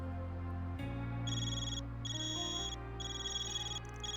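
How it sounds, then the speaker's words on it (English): A Zypha phone rings in the video game Trails Beyond the Horizon, giving three repeated bright electronic ring bursts over a low, steady game-music drone, fairly loud and unaccompanied by talk. "your Zypha's ringing."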